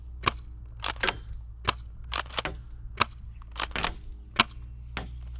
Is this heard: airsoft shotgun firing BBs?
yes